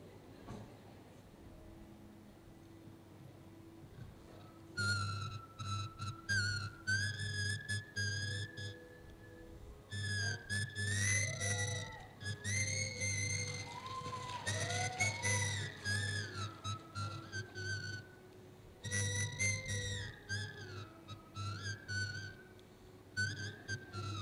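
A person whistles the melody of a Tamil film song, a clear, close, sustained whistled tune in phrases separated by short pauses, with no talking over it.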